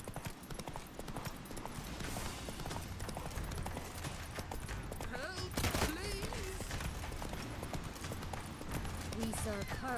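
Roach, a horse in the game The Witcher III, gallops with a continuous rapid drumming of hooves, joined midway by a bright burst of other game noise and voices talking over the ride.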